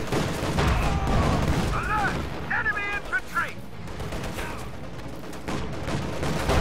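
Gunfire in Company of Heroes 2 during a Soviet–German battle with snipers, field guns and a Panzer IV, a dense battle din of shots and booms under a commentator's running talk.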